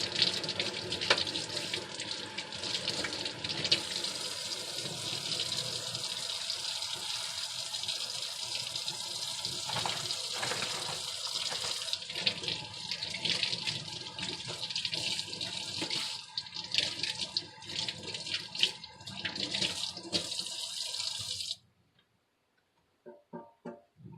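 Tap water runs into a sink over salted fish fillets, rinsing the salt out: a steady, close splashing gush with small clatters and knocks as the fillets shift, ending abruptly when the faucet shuts off near the end.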